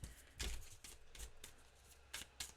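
Tarot cards are shuffled by hand in a quiet room, a series of soft riffling bursts and taps at irregular intervals, close and faint.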